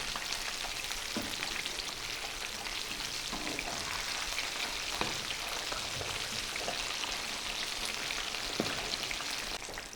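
Chicken pieces fry in hot oil for a crispy fried chicken recipe, with a constant, fairly faint crackling sizzle and occasional small pops, no speech over it.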